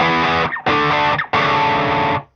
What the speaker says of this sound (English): And with the bridge pickup, it sounds like this if I dig in.